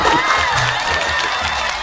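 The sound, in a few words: audience applause for guest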